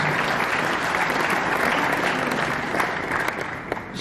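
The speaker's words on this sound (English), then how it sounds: "Nice, give it up one more time, guys, for Erik Ramos." A large audience at the CT Barber Expo 2019 breaks into sustained loud applause, dense clapping that fades slightly toward the end.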